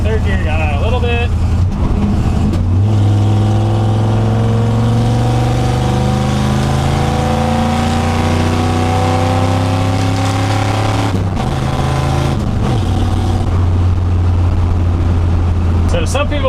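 A Ford F100 pickup with a Tremec 5-speed gearbox, engine droning loudly in 5th gear, then dropping to 3rd, with the pitch shifting and rising through the gears while driving, and a voice talking over it.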